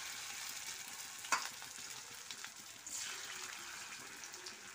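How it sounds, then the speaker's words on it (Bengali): Cauliflower fritters (bora) fry in oil with a quiet, steady bubbling sizzle, a single sharp clink early on and soft stirring sounds, no speech. "ফুলকপিগুলোকে বড়া ভেজে নেব"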